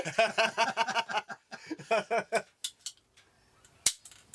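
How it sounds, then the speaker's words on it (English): A person talks briefly, then a few metallic clicks of an S410 air rifle being cocked are followed by a single sharp, loud shot. "That sounds like cocking and firing to me."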